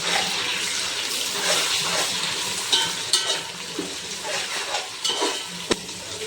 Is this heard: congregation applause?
no